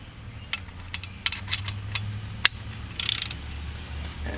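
Ratchet turning a 27mm socket on a 2-inch extension against a Mercedes V6 harmonic balancer bolt. Sparse, sharp metallic clicks come at irregular intervals over a low background hum, with a slightly busier cluster toward the end.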